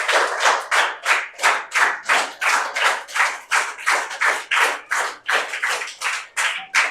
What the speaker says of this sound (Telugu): so big claps to her once